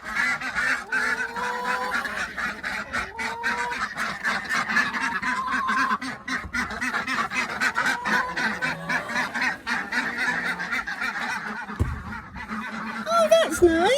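Geese and ducks honk and quack close by during morning farmyard chores, a busy, nearly continuous run of overlapping calls with brief pauses.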